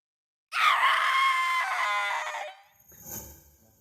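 A shrill scream from an animated show erupts after a short silence and holds for about two seconds before cutting off, followed by quieter trailing sounds.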